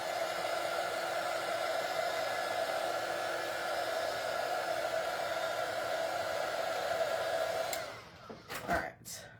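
A hair dryer drying acrylic paint on a handmade patriotic craft firecracker blows with a steady close whooshing hum for most of the clip, then cuts off, followed by a few brief rustles and knocks.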